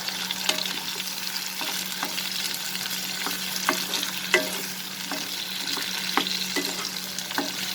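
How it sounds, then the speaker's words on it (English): Potatoes and tomatoes fry together in a pan, a steady close sizzle broken by regular scraping stir clicks from a spatula, with no voices. "So here friends, I have fried the potatoes and the tomatoes."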